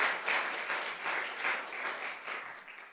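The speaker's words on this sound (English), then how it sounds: "I think it's a round of applause" An audience at a university alumni event bursts into applause, a dense, even patter of many hands that swells and eases in waves, then tapers off toward the end.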